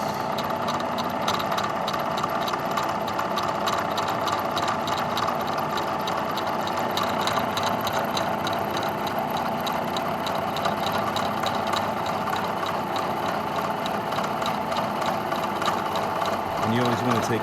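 Milling machine taking a light cut on copper, a steady mechanical whir and rhythmic chatter running throughout, with someone talking over it.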